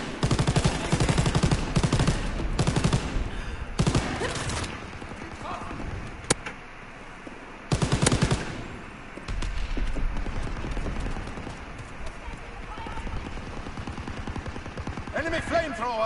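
Call of Duty wartime gunfire from an Operation Neptune battle, with dense bursts of rapid machine-gun shots and scattered single cracks that come and go in loud clusters over steady battlefield noise.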